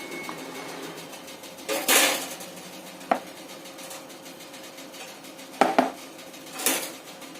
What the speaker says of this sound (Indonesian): Ini saya akan penyek-penyek sampai halus semuanya